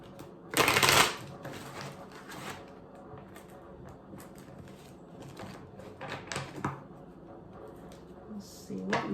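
Tarot cards being shuffled, a brisk riffle near the start followed by softer card handling, light taps and shuffling spread through a quiet room, with faint talk.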